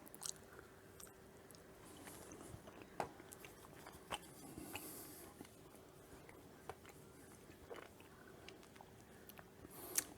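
Someone chews Reese's Puffs cereal fudge with a crunchy topping, giving soft, faint, close-up chewing and occasional small crunches over about ten seconds with no talking.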